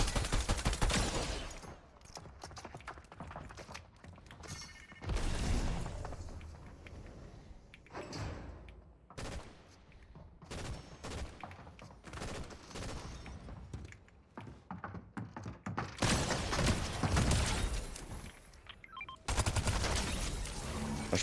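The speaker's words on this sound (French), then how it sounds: "je tire tout dans le mur." Bursts of gunfire in the video game Fortnite crackle in loud rapid clusters separated by quieter gaps, the shots sounding dense and heavily compressed with no clear talk over them.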